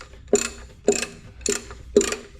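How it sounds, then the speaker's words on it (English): A ratchet turns a torque converter bolt through the oil pan on a 1982 Camaro during a Turbo Hydramatic 350 transmission swap, four evenly spaced clicking pulls heard up close and fairly loud. "I had to put a ratchet across the side of this oil pan and then hook it in on that last bolt"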